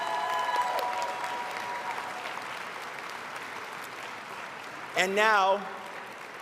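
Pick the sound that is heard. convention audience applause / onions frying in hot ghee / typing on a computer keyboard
convention audience applause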